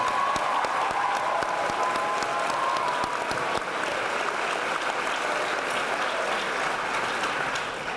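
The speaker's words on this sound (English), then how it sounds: "Let's get a round of applause." An audience claps at a school dedication ceremony, a dense, even wash of applause that holds steady for several seconds and tapers slightly at the end.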